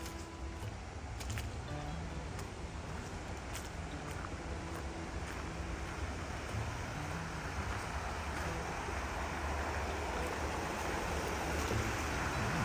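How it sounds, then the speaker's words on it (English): Fast-flowing Hillsborough River water rushes in a steady, broad roar that continues unbroken for about thirteen seconds, with faint scattered ticks on top. "There's some speed on that Hillsborough River."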